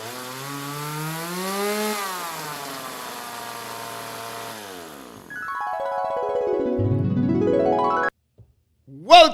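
A chainsaw sound effect plays on a live stream, the engine revving and buzzing with rising and falling pitch for several seconds before cutting off abruptly.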